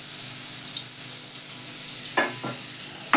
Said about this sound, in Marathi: तेल घालते या कढईमध्ये